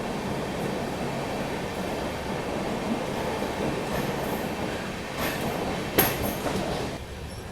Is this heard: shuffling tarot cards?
no